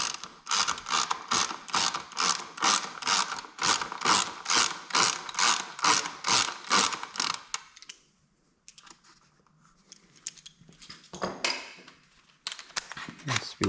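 Ratchet wrench with a 5mm Allen bit loosening the hand guard bolt in the bar end on a 2018 Honda CB500X: about eight seconds of fast, steady ratcheting clicks up close, then a quieter pause and a few shorter bursts of clicking.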